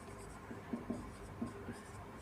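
Faint pen strokes write out a class 10 quadratic equations solution by hand, a few soft scratches close by over a low room hiss.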